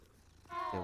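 A cat in a video game makes a brief, quiet purring call that swells louder near the end of under a second.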